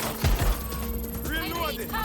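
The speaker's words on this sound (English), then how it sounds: "Shots fired!" Gunfire rings out in a Watch Dogs Legion firefight, a short burst of sharp shots near the start followed by a lingering echo under shouted voices.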